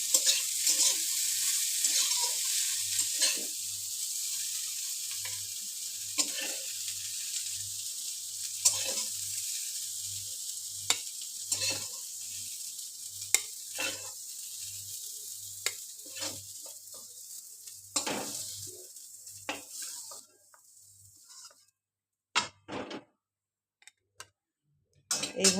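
Cauliflower deep frying in hot oil gives a continuous bright sizzle, broken by scraping stirs and utensil taps. The sizzle stops near the end, leaving a few clinks and knocks.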